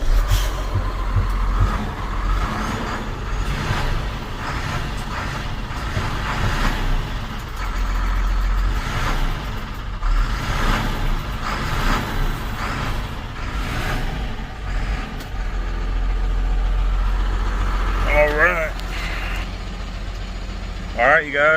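Hino box truck engine running steadily after a jump start, a loud continuous low diesel idle throughout, with a voice talking over it and a few brief higher mechanical sounds near the end.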